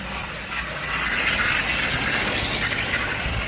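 Steady, close spray of water rinse hissing continuously onto a surface on a large cleaning job, loud and unbroken throughout.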